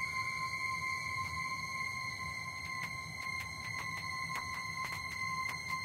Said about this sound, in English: or you can have this little glitchy noise thing coming in.